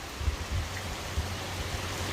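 Rain falls on a roof in Florida as a fairly faint, even hiss with a few soft low thumps, brief and without voices.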